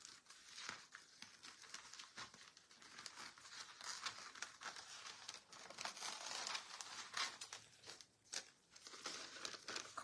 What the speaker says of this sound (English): let me cut out the shape I kind of want